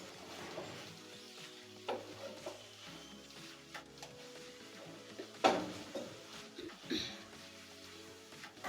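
Minced meat being stirred through a sauce in a pan, with soft scraping strokes and a gentle sizzle throughout, a few louder clanks of the utensil against the pan, and faint voices in the background.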